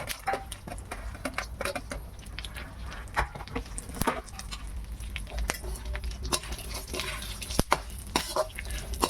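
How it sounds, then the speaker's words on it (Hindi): Almonds and raisins dry-roasting and being stirred in a pan over low heat, heard as a steady dense rattle and scraping with frequent small clicks and knocks throughout, fairly close. "इसके साथ ही मैं डाल दूंगी इसमें जो हमारा बादाम और किशमिश था उसको भी।"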